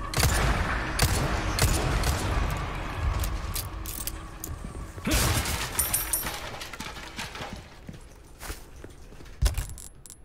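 Gunfire in the video game Resident Evil 4 Remake: repeated sharp shots and bursts, with mechanical clacks between them, loudest early on and thinning toward the end.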